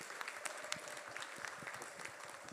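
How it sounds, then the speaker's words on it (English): Audience applause at a talk on Marcus Garvey's legacy, dense steady clapping from a room of people, moderately loud throughout with no speech over it. "give him a round of applause."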